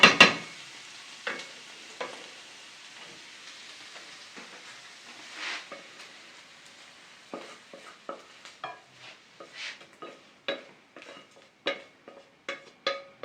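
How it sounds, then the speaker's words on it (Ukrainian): Carrots, onions and meat stirred together by hand in a pan, giving a run of soft wet squelching and clattering pulses that quicken toward the end, with a faint sizzle beneath and no talk. "Гарненько перемішуємо. Перемішую рукою."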